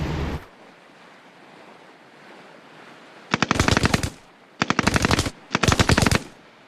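Bursts of machine-gun fire in World War II archive footage: a short blast at the start, then three rapid, loud volleys of several seconds each with brief pauses between, over a windy, surf-like rumble.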